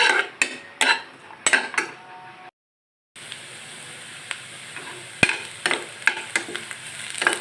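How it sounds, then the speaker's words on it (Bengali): Onions fry in a pan for spicy potato bharta, with repeated sharp scrapes and clinks of a utensil stirring over a constant sizzle, briefly cutting out before resuming. "পেঁয়াজটাও ভাজা হয়ে গেছে"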